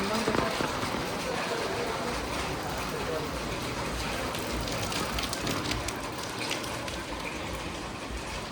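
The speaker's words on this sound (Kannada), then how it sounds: "ಶುರು ಆಯಿತು ಮಳೆ." Heavy rain pours down outdoors in Coorg, a dense, loud, continuous wash of hissing patter that stays even for the whole stretch.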